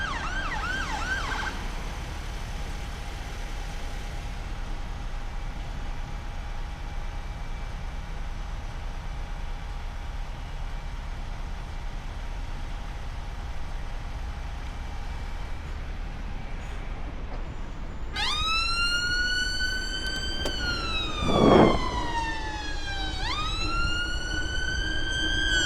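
Emergency vehicle sirens wail past near a roundabout on a bypass, a rising and falling tone cutting in sharply over steady road and engine rumble during the final few seconds.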